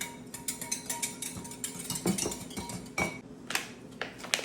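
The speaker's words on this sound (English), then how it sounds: "I'm going to whisk it together really well." A whisk beats whole milk into cornbread mix in a bowl, quick irregular clinks and scrapes of metal against the bowl, fairly soft and close, with no talking.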